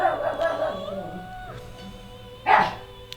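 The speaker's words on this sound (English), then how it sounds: "Sorry about that barking" A dog barks once, sharp and fairly close, heard during a Persona 4 Golden game commentary session over quiet game music and background tones.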